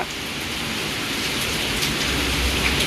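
Heavy rain pours down in a steady, dense hiss on surfaces nearby, continuous and loud, with a faint low rumble underneath.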